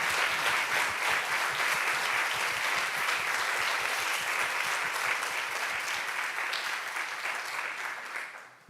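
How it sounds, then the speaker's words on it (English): Big round of audience applause at a S+T+ARTS Day 2022 stage event, sustained dense clapping filling the hall steadily for several seconds before tapering off at the end. "Let's have a big round of applause for you, please."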